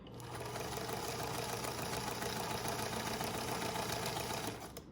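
A sewing machine stitching a rolled edge on a hospital gown, running in a fast, continuous whirring rattle at a steady pace from start to finish, close and alone.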